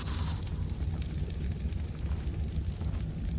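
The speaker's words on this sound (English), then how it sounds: "Super explosion." A deep, rumbling explosion in Ark: Survival Evolved Genesis rolls on as a continuous low roar with crackling debris, loud and sustained throughout.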